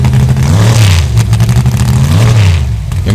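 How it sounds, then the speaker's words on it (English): A 705 cubic inch cast iron big block Chevrolet drag race engine revs hard and loud, its deep throb rising and falling across several throttle blips at close range, with no talk. "I'm clearing the motor out right now."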